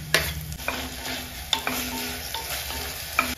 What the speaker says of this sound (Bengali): বাটারটা একটু মেল্ট হয়ে গেলেই আমি দিয়ে দেবো এর মধ্যে চপ করা পেঁয়াজ আর টমেটো।